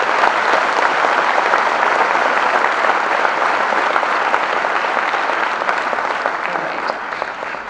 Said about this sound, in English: You have to clap for your seniors.